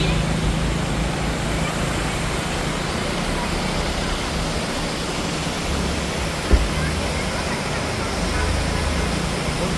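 A waterfall in Darjeeling roars with a loud, steady broadband rush of falling water that never lets up. A single faint knock sounds partway through.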